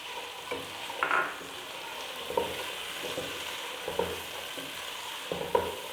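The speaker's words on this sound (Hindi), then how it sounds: "इन सभी चीज़ों को मैं 1-2 मिनट के लिए बस भूनूंगी" Boiled chana dal frying in a pan, a constant soft sizzle under regular stirring scrapes and light taps every second or so, close up with no talking.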